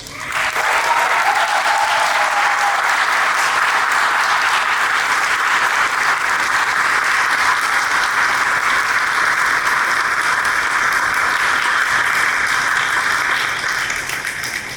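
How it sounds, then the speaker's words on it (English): Audience at a Miami Beach Fire Rescue cadet ceremony gives sustained, loud applause for the inaugural cadets, a dense steady wash of clapping lasting about fourteen seconds with no break. "Applause, please."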